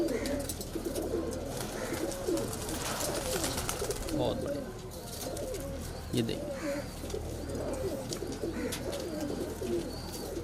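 Medium-sized high-flyer kalpare pigeons cooing repeatedly in a loft in Patna, soft low coos recurring through steady background noise, with someone talking over them.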